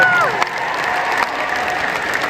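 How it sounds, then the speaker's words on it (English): Arena audience applauding musicians at a musicals concert, a steady wash of clapping and cheering from a large crowd, a voice briefly heard at the very start. "Give them another big round of applause."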